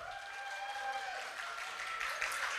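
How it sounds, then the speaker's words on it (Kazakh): Guests at a wedding in Nukus, Karakalpakstan, applauding together, an even, sustained patter of many hands that grows slightly louder toward the end, with faint background voices. "Кім Малика жақтан келген болса шапалақ ұрады."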